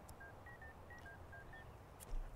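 Touch-tone phone dialing in The Sims 2 as a Sim places a call, a run of about eight short, even beeps at low level over a faint hum, with a brief louder click near the end.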